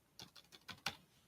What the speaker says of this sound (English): I can also just type in